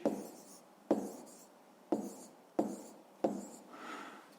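A pen or pencil taps and scratches on paper in five separate bursts while a fifth-grade math multiplication is written out, each burst a sharp contact followed by brief scribbling, close and quiet.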